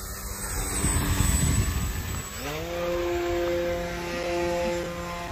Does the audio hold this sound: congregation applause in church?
no